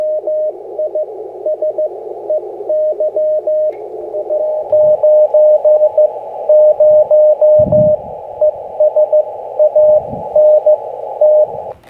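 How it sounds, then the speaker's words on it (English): A CW Morse signal on a ham radio receiver heard through a 500 hertz filter: a steady tone keyed in rapid dots and dashes over a band of hiss, with occasional low thumps beneath. "Here's a respectable CW signal. S6, 500 hertz filter."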